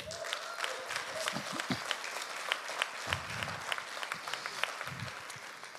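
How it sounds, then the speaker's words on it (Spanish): A church congregation applauds God during a Spanish-language faith talk, with steady, fairly distant clapping from many hands and a few low voices murmuring underneath. "Un aplauso para Dios"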